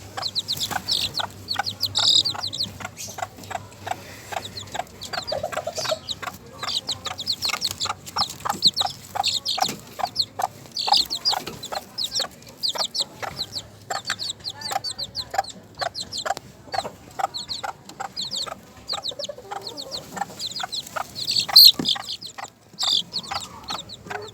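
Two-week-old Sebright chicks in a small backyard coop peep and cluck steadily and close up, a dense run of short calls overlapping throughout with no pauses.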